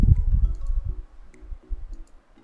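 Computer mouse clicking during spreadsheet work, a few light close clicks over a low background rumble.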